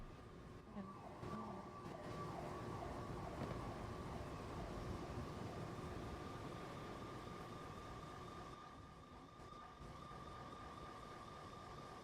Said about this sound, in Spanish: Muchas sirenas.